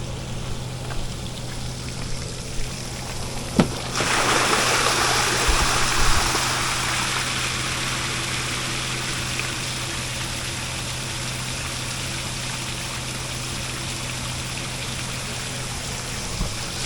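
Water steadily pouring and trickling off a boat sitting on a trailer at a boat ramp, a continuous rushing wash that starts abruptly a few seconds in over a low engine-like hum.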